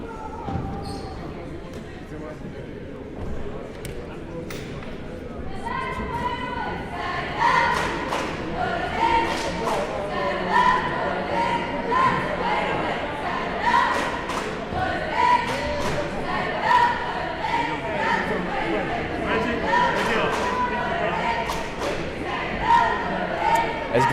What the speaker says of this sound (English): there are lots of angry Columbia fans in the crowd right now